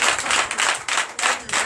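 Acclamation during a church deliverance night service, bursts of clapping and cheering from a congregation swelling in waves, fairly loud and close, without clear speech.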